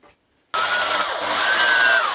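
A power drill bores holes through a canoe camera mount part, a steady loud whine with a rising pitch that cuts in abruptly after a brief quiet start and runs continuously to the end.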